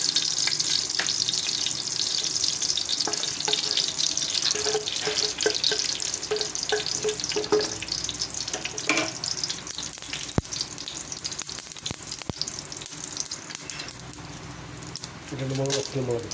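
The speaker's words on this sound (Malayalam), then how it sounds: "നമുക്ക് ആദ്യം കടുകിടാം." Mustard seeds spluttering in hot oil in a pan, cooked alongside garlic, tomato, green chilli and curry leaves: a steady, dense crackle and sizzle that runs throughout, with brief bursts of popping and occasional speech over it.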